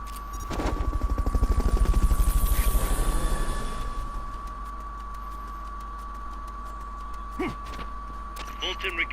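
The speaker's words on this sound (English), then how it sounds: "Fulton recovery subject confirmed onboard helicopter." A helicopter in Metal Gear Solid: Peace Walker sounds as a loud, rapid rotor chop that swells and then fades after a few seconds. A steady electronic tone runs underneath, and bursts of game sounds follow.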